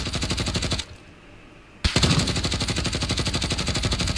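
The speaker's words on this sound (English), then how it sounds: "He's getting sniped at, so you're giving your position away." Rapid automatic gunfire rattles in a video game, a dense stream of loud, evenly spaced shots that stops for about a second, then resumes just as hard.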